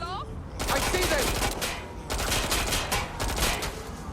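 Dense bursts of gunfire from the video game Watch Dogs: Legion, rapid overlapping shots and automatic fire filling nearly the whole stretch after a quiet opening, loud and close.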